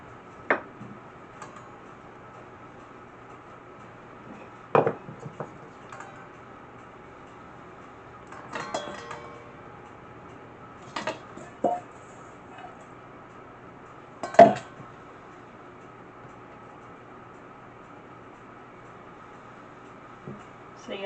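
A metal baking pan is fetched and handled in a kitchen, giving a few scattered clanks and clinks spread across a quiet stretch, with brief muffled voice in between.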